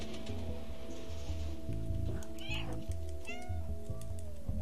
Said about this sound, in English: Oh, a little kitty cat.